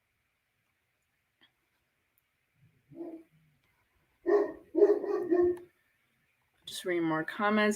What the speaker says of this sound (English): I'm sorry if you guys hear my dog barking in the background